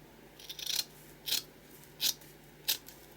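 Scissors snip through strips of burlap, four crisp, separate cuts spaced about half a second apart, close and fairly quiet in a still room.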